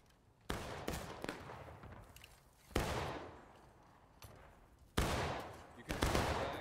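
Volleys of rifle gunfire in a Civil War battle video game, three or four loud sharp bursts that each ring out and decay, spaced a couple of seconds apart, with faint voices underneath.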